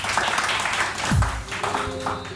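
Studio audience applause on a Pakistani morning talk show, a dense sustained wash of clapping that swells briefly in the middle and carries on throughout the short stretch.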